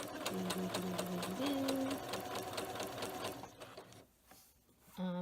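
A Singer Quantum Stylist 9960 sewing machine runs a straight stitch, a steady rapid mechanical whir with fast needle clatter for about four seconds, then stops briefly before a short restart.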